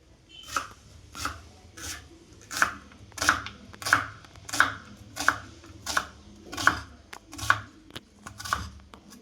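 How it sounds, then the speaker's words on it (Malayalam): Onion, garlic and green chili being chopped with a knife on a board, a steady rhythm of about a dozen crisp, close cuts at even intervals. "നമ്മൾ സബോള ഒരു മൂന്ന് വെളുത്തുള്ളി പച്ചമുളക് ഇതൊക്കെ അരിഞ്ഞെടുത്തിട്ടുണ്ട്"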